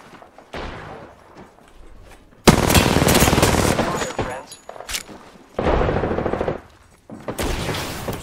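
Loud bursts of automatic weapon fire in a video game firefight come in several long volleys separated by short lulls, with quieter shots and faint player voices between them.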